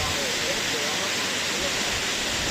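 A waterfall at a canyoning site in Ecuador, heard as a steady broadband rush of falling water close by, continuous and unbroken for the whole stretch.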